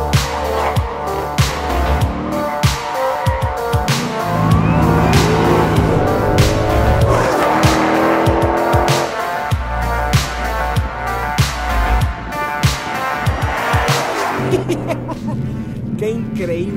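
Ford Shelby GT500 Mustang engine driving hard on a track, loud revving and shifting with tire noise, while people talk and laugh over it.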